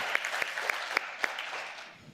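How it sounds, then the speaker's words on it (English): A short burst of applause from an audience at a stakeholder engagement event in Cape Town, scattered claps with a few sharper hand strikes over a soft crowd murmur, fading out after about two seconds. "A round of applause."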